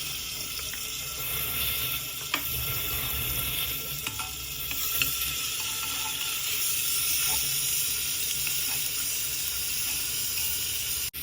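Ginger garlic paste sizzling in hot oil with fennel seeds, a loud, steady close-up hiss with a few sharp spatters and pops, continuous from start to finish.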